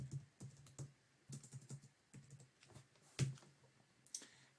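Typing on a computer keyboard while a code is entered into a production software form, heard as irregular bursts of soft key clicks with short pauses between, close and faint, with no speech.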